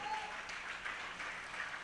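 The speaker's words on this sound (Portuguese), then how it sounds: "Você pode aplaudir ao Senhor por isso?" A church congregation applauds steadily during a service, a soft, even wash of clapping that sounds somewhat distant and fills the whole moment without breaks.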